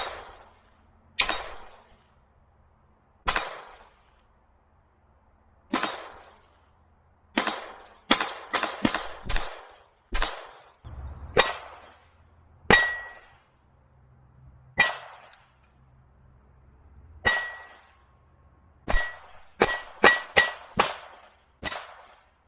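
Around twenty-two .22 Long rifle shots strike a steel target at about 30 yards, each a sharp crack with a metallic ring, spaced irregularly and loud against a quiet outdoor range, bunching into quicker volleys near the end.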